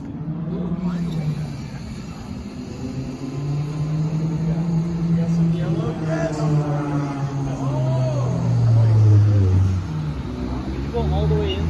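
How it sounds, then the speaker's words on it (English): A replica Ferrari F50 with an aftermarket exhaust drives past with a rising, rasping engine note, revving up and easing off under people talking nearby. "This car sounds so good with the aftermarket exhaust."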